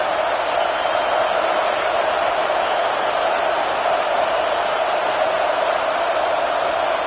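A college football stadium crowd roars during a third-down red zone play, a dense, continuous wall of cheering and noise that stays loud and steady throughout.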